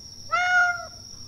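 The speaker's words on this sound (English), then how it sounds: "I hear cats!" A single short cat meow sounds in a Chilla's Art horror video game, clear and fairly close over a quiet background hum, lasting about half a second.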